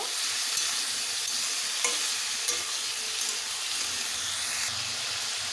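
Chopped potatoes frying in a pan, a continuous bright sizzle with occasional scrapes and taps of the spatula as they are turned.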